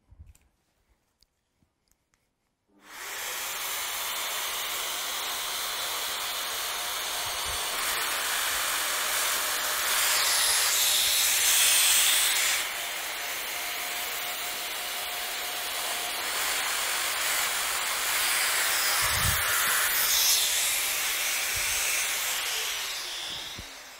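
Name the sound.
Festool Domino joiner cutting mortises with dust extractor running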